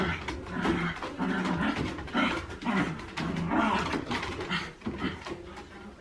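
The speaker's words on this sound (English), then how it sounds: "Roxy, no barking. No barky barky." A pet dog barks and growls repeatedly at close range over background noise during a holiday evening at home.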